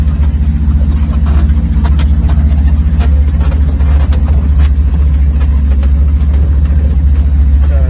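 Vehicle engine idling and pulling away in first gear, with a steady low rumble throughout, a recurring high beep and faint squeals over constant road noise.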